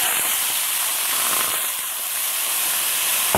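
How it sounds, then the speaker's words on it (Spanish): Small pieces of chicken sizzle in hot oil in a frying pan, a steady loud hiss with crackling pops, continuous and close with no talking. "y vamos a agregar nuestro pollo."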